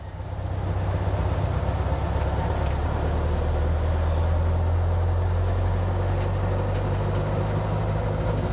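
An engine fitted with dual Weber 40 IDF carburetors running lean, a loud, steady low droning rumble close by with no talk, holding throughout without a clear dropout.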